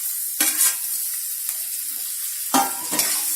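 Capsicum, onion and tomatoes are sautéed in a pan for paneer tikka, giving a soft continuous sizzle broken by a few bursts of scraping stirring, up close with no voices.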